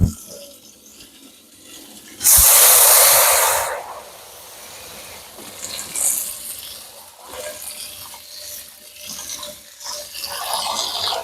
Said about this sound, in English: Because now we're gonna have a hot pan and hot water.